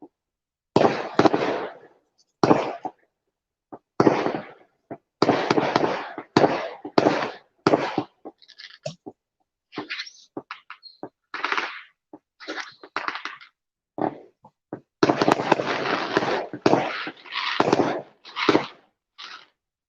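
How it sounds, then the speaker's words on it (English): Fireworks going off outdoors at night, sharp cracks and crackling bursts arriving in irregular clusters with short gaps, some loud and close, others fainter. "let's watch some more fireworks, y'all."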